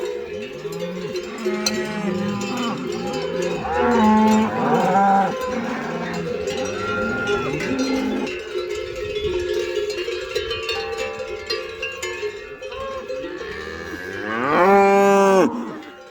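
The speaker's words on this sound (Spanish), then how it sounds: "Buenas vacas tienes, ¿eh?" Cattle on a dehesa pasture give several loud, drawn-out moos, with cowbells clanking and jingling steadily among them; one close, strong moo comes near the end.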